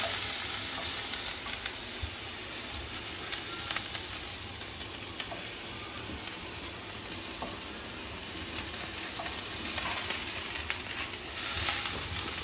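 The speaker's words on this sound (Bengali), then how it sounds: "এখন এই যে আদা সেদল এই যে ভিজে নিছি, কাঁচা সেদল, এখন একে তেলের মধ্যে ভাজা লাগবে।" Soaked raw sidol, a fermented fish preparation mixed with ginger, frying in oil, giving a steady, close broadband sizzle with faint crackles throughout, with no talk.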